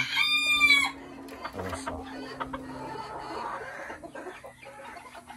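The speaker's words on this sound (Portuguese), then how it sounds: "Olha o galo aqui, que lindo." Belgian porcelain bantam chickens cluck in a backyard pen while a rooster gives a loud crow at the start, followed by softer scattered clucks and a brief spoken remark.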